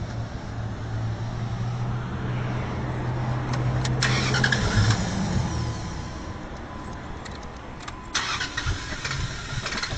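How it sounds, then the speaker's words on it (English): A hydrogen-fuelled truck engine cranks steadily and tries to start, a continuous loud mechanical churn with bursts of clattering partway through and again near the end, heard alone without talk. "We'll start it and make sure that any fuel that was left in the fuel rail is burned out"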